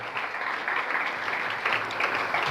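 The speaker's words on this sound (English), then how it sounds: "Give him a big round of applause, Prathamesh." Steady audience applause fills a hall at a youth symposium, a dense, even patter of many hands held at constant loudness throughout with no voices on top.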